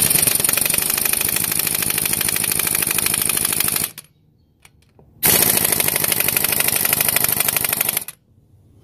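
An impact gun hammers at the wheel lug nuts on a 2005 Silverado in two long, loud, rapid rattling bursts. A short silent pause separates the bursts, and the tool stops abruptly after each one.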